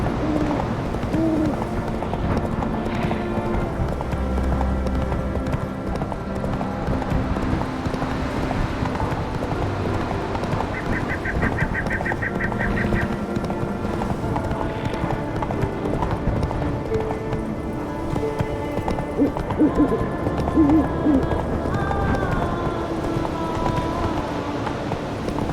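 Roach, the horse in The Witcher 3: Wild Hunt, gallops with a continuous rapid hoofbeat clip-clop under a dense layer of game music and ambience, steady and fairly loud throughout.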